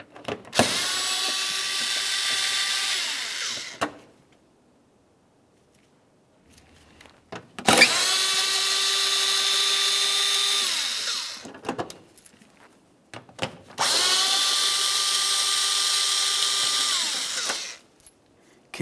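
Three long bursts of a power tool whining at steady speed while backing out T30 bolts from a 2005-2010 Dodge Dakota front bumper cover, each run lasting several seconds and separated by short pauses with small clicks and handling noises.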